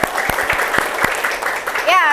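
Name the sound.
applause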